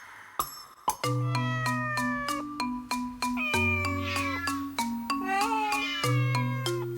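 A cartoon cat meows again and again in a series of sharp, rising and wavering cries over a steady low musical drone, loud and close, with no talk.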